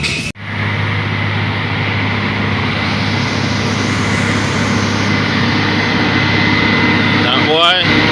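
Kenworth truck with a Cat C15 diesel engine running, a loud steady droning rumble filling the whole stretch, with a brief dip at the start.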